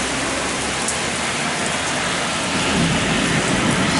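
Heavy summer thunderstorm in Luxembourg: dense, steady torrential rain roars loudly and evenly throughout, with thunder rumbling low underneath and no voices.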